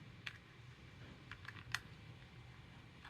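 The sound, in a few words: plastic back cover clipped onto Renault key fob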